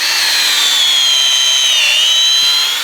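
A power drill bores a tap hole into a maple tree, its steady high whine holding loud and continuous throughout, the pitch sagging slightly midway as the loaded bit meets resistance in the wood.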